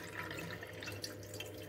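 Gray starchy water from rinsing sticky rice pours out of a pot in a soft, continuous splashing trickle, faint and close, with no talking.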